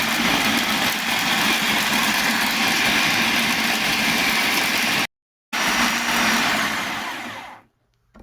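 A food processor blends a fish marinade for Senegalese thieboudienne, a loud steady motor whir running without a break, cutting out briefly mid-way, then resuming before winding down and stopping near the end.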